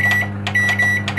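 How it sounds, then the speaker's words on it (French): A very old microwave oven starting up, giving a steady low electrical hum with a high tone above it and a few soft clicks or beeps repeating close by. "je vais lancer mon micro-ondes"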